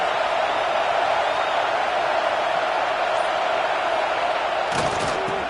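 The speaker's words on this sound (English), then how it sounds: "This crowd, full throat, spreading the eardrums and letting them know it's going to be a long day." A loud stadium crowd at a football game roars in a dense, continuous wall of cheering that holds steady throughout, with a brief sharp thump near the end.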